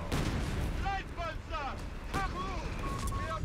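Gunfire and grenade blasts from the Company of Heroes 3 World War II strategy game, with bursts of shots and booming explosions, mixed with game voice lines and a steady din of battle.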